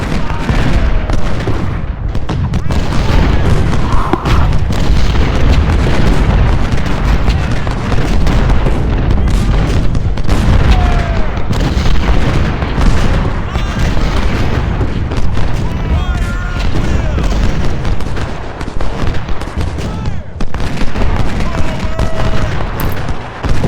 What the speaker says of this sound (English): to make sure that all my artillery is actually targeting their artillery